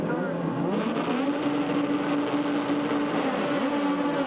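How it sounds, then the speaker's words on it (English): Star Mazda race car engines rev up together on the grid at a race start at Mosport, a rising, buzzing engine drone that builds and holds, with a commentator talking over it. "There you go. The revs come up."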